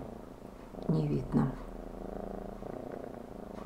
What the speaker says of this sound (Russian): у меня здесь на ручках уснула, мурчит